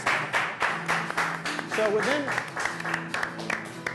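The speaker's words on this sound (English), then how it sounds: "So a big applause then for the next 50 winners" An audience applauds the next 50 startup winners at an awards announcement, with scattered claps running beneath a speaking voice and brief reverberant peaks.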